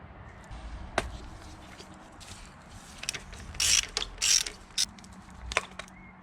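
Ratchet wrench working on the spark plugs of a Mazda 323F, giving a few brief, close clicking and ratcheting bursts separated by quiet pauses, with no talking.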